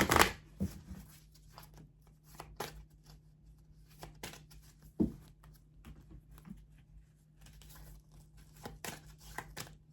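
Tarot cards being shuffled by hand: soft riffling, papery flicks and scattered taps come in irregular bursts across the stretch, close but quiet, with no voice.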